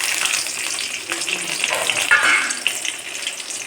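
Garlic and urad dal fry in oil until golden, giving a steady close sizzle with light stirring scrapes throughout.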